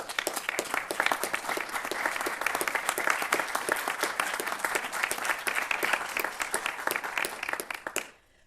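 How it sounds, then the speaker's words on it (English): An audience at a CDC Community Advisory Council meeting breaks into sustained, dense applause for about eight seconds, then stops abruptly. "Will they please stand and give them a round of applause for their work?"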